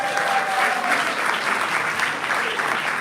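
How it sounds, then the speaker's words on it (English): A live audience gives a big round of applause, a dense, steady wash of clapping from many hands that carries evenly throughout. "Big round of applause, guys."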